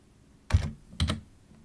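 Two short bursts of computer keyboard typing, each a quick cluster of close, crisp key clicks about half a second apart, entering a search in Google on a Windows 10 PC, with no talking.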